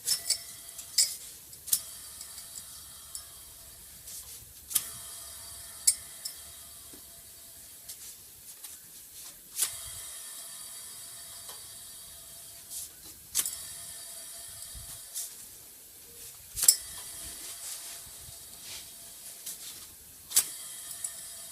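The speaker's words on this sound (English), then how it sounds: "Next, our air conditioning compressor." A steady mechanical whir with hiss from a Subaru EJ-series engine's air conditioning compressor, punctuated by sharp metallic clicks and ticks at irregular intervals, heard close and alone.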